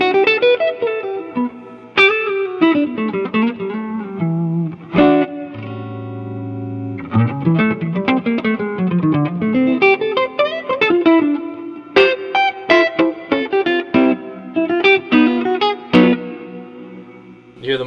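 Electric guitar played through a Walrus Audio Fathom reverb pedal with its modulation engaged, melodic lines and chords ringing out with lush, wavering reverb tails, played alone and up close.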